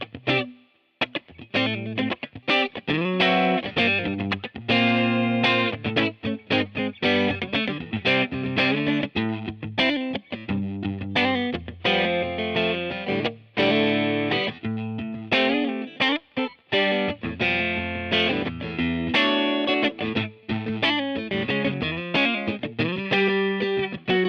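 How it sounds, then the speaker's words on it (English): Fender Custom Shop Custom Deluxe Stratocaster played on its middle pickup alone, clean at first and then through mild distortion, with continuous chords and single notes strummed close and loud throughout. "Now let's move on to that middle pickup by itself. First clean, and then with a little bit of a distortion"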